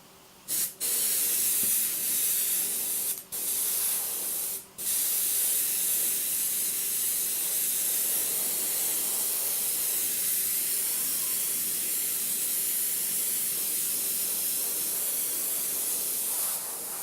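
Continuous hissing spray from an AS186 airbrush kit bursts on loudly, pauses briefly twice early on, then sprays steadily for a long stretch without speech.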